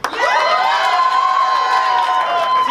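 A live improv audience at an anime and gaming convention cheers loudly and continuously, high shouts and whoops from many voices sustained throughout, close and full.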